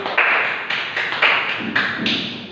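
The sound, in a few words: classroom applause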